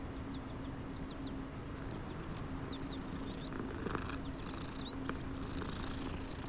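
A cat in the video game Hogwarts Legacy purrs in a low continuous rumble, soft and even, with faint chirping ambience layered above it.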